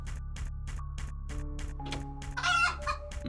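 Chicken clucking and crowing sounds from the Echoes of Magnus dungeon-crawler video game, a repeated rhythmic series of clucks over a steady low game tone, ending with a louder burst.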